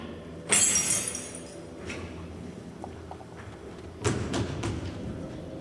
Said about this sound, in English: They're smashing out my headlights.